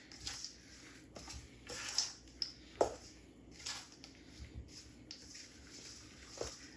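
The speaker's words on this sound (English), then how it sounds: "we are going to go ahead and just stir that until it's all very well combined" Thick chocolate zucchini bread batter is stirred in a bowl, giving soft, irregular squelching and scraping sounds, faint and close, with no talking.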